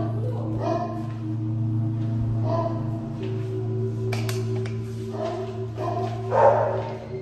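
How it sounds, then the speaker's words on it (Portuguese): Dogs bark intermittently, a few short bursts at moderate distance, over a steady low hum and some faint voices. "os cachorros estão latindo"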